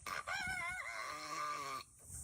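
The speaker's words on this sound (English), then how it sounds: "It sounds like this chicken needs to stop smoking." A chicken lets out one drawn-out hoarse, raspy crow-like call, strained and scratchy, fairly close, with a short quiet pause after.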